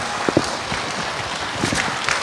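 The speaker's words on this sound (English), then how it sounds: "Can we all now have a round of applause" A conference audience applauds at the APF 2015 closing plenary. Even, continuous clapping fills the hall at moderate volume, with a few louder claps popping out.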